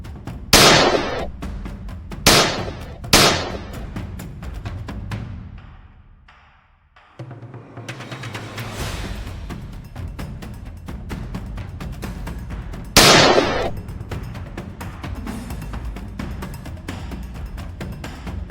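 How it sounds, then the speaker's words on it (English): Rifle shots fired at wild hogs in Texas brush ring out as sharp, loud, close cracks, three in quick succession near the start and another later, each trailing off into outdoor ambience. "We pulled the trigger."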